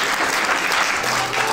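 Guests at an indoor wedding ceremony in a hall break into steady, dense applause that fills the room, close and loud, without a pause.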